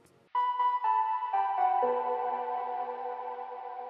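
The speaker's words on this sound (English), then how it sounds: "I've got this counter melody" A Serum preset synth counter melody plays alone, a bright bell-like lead stepping through several sustained notes that ring and overlap, clear and close with no voices.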